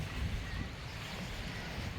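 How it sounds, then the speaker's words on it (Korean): Waves at Sokcho beach on the Korean coast during the beach opening day, a steady broad wash of surf with some wind noise on the microphone, continuous and moderately loud with no talk. "파도 소리 좋다"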